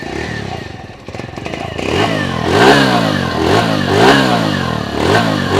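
A TVS Radeon BS6 motorcycle idles, then its exhaust revs up in several close, loud, rising bursts with a throaty, sputtering note.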